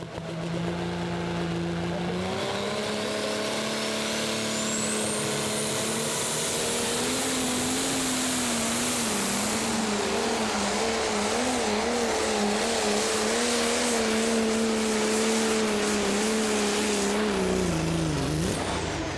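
The Sigma Power prostock pulling tractor from Finland makes its run at the Herning Eurocup, a loud sustained engine roar that climbs in pitch early, holds steady and high for most of the pull, then bogs down and drops near the end.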